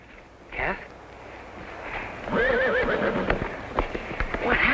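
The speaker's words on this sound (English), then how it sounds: "Kath, what are those horses doing here?" Horses neigh and whinny in a Western ranch setting, a loud wavering call rising near the middle with a shorter one earlier, over dull clip-clop of hooves and muffled voices.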